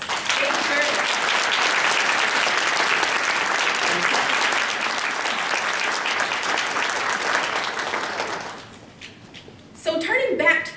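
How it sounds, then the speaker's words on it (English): Loud, sustained applause from a large keynote speech audience for several seconds, then fading out before a voice begins speaking. "Let's give these young leaders a big round of applause."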